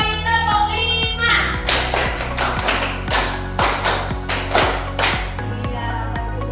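Children in a classroom clap their hands in a counting game, short groups of sharp claps in pairs and clusters over steady background music.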